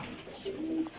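A Bater pigeon, a domestic pigeon breed, coos in a few soft, low, drawn-out notes close by amid faint background noise, with no voices.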